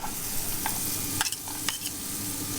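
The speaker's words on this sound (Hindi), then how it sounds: "अब क्या करेंगे, हम प्याज को डाल देंगे।" Chopped onions sizzle and crackle in a pan while being stirred toward caramelizing, with a steady frying hiss broken by a few sharp scraping strokes, close and alone.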